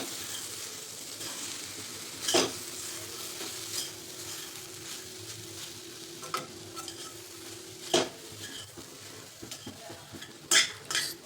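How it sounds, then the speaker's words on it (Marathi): Spoon stirring a raw mango and soaked lentil mixture in a pan, soft scraping strokes with several sharp metal clinks against the vessel, close and unaccompanied by talk. "परत मिनिटभर मिक्स करून घ्यायचे"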